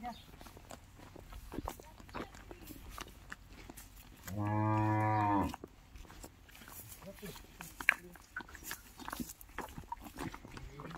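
A bull at a cattle market lets out a single deep moo lasting about a second, close by, amid background chatter and footsteps.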